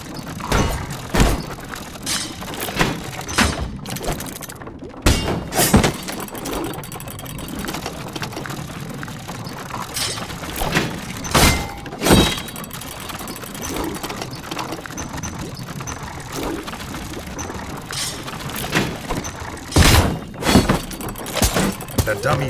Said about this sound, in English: His only hope was to parry with his trusty shield.